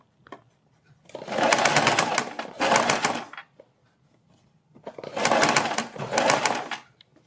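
A sewing machine stitching a fabric strip onto a garment neckline runs in two pairs of short bursts, whirring steadily with quiet pauses between the runs.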